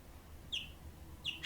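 A wild bird calls near its nest, giving two sharp, high, downward-sweeping chirps a little under a second apart, fairly close over a quiet outdoor background.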